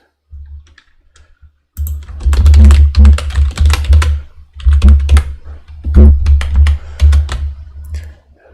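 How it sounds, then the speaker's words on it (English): Rapid, loud clattering keystrokes on a computer keyboard during a live coding session, coming in bursts with brief pauses and very close to the microphone. "Sorry about the keyboard."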